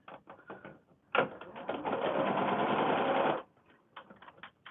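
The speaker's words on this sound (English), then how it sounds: "Hopefully the sewing machine isn't too loud next to the microphone of the iPad." A sewing machine whirs in a steady, loud run of stitching for a couple of seconds during foundation paper piecing, bracketed by shorter bursts of mechanical clatter.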